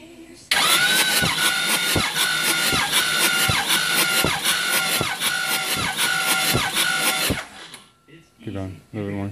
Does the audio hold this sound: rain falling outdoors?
no